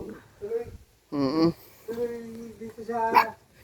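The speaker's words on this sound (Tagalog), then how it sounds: "Matataba ang aso ni Tay Willie, kaya lang may problema sa balat." Several short dog barks and yips come in bursts, fairly close, with voices talking between them.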